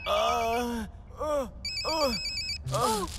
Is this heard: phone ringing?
yes